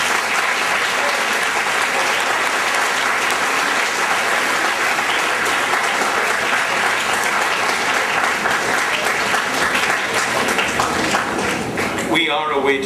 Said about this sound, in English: I hope you will all join me in applauding